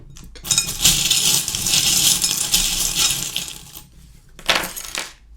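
Small metal divination charms tossed and scattered onto a surface during a tarot-style reading, a bright jingling clatter that runs about three seconds, then a second shorter rattle after a pause, with no talking.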